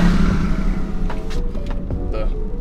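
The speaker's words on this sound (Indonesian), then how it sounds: "suara mobil dari luar." Traffic noise from outside, muffled by a sound-deadened car cabin: a steady low rumble with a few brief, faint higher sounds passing over it.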